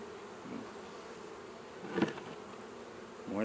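Honeybees hum softly around a hive, with one bee buzzing close by for a moment and another drawing near at the end.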